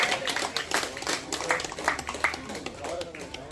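Audience applause at a Sneha Ranga club gathering honoring its president with the Kempegowda award, a brief burst of scattered, fairly faint hand clapping mixed with crowd noise.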